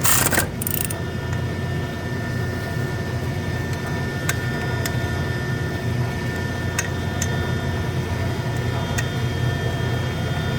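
A hand ratchet working on the wheel hub bolts of a 1999 Porsche 911 (996) Carrera during a wheel bearing job, heard as faint, sparse clicks over a steady background hum.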